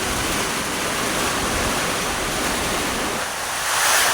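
A loud, constant roar of strong typhoon wind in Masbate, Philippines, rushing and unbroken, swelling slightly toward the end.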